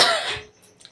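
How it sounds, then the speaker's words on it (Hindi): A woman gives a single sharp cough, close and fairly loud, outdoors beside a village field of fenugreek, garlic and wheat, then a near-quiet pause with faint background sounds. "मुझे खांसी बहुत काफ़ी आ रही है"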